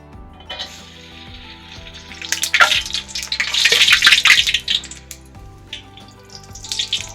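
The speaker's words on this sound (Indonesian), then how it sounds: "ini rengginang yang baru bikin kemarin itu rengginang kencur. Kita coba goreng." Rengginang kencur, homemade Indonesian rice crackers flavoured with aromatic ginger, frying in hot oil with a steady crackling sizzle that swells into louder bursts of bubbling midway, close and with no talking.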